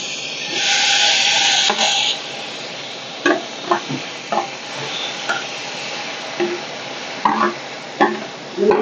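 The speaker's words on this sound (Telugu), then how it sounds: "టమాటాలు కూడా వేసేసుకొని వేయించుకుందాం" Tomatoes frying in a pan give a bright sizzle that is loudest at first, then quieter and broken by repeated wooden-sounding knocks and scrapes of stirring.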